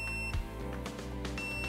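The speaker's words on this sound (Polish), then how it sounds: "możemy dostrzec, że jest alarm. Jest bardzo głośny i bardzo uciążliwy" A high electronic alarm tone from a heat-recovery ventilation unit's Plum controller, signalling filter replacement, sounds at the start and again at the end over a loud, steady background hum.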